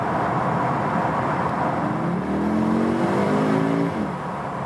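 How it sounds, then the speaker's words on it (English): An Audi SQ2, a compact hot-hatch SUV, accelerates with the window down, giving a steady road and wind roar. A moderate engine note climbs for about two seconds in the middle, then fades back into the noise. "it's always a good good chance to turn down the window and then accelerate some more"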